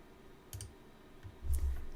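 Computer mouse clicks in pattern software, two or three light, close clicks spread over a couple of seconds above faint low room noise.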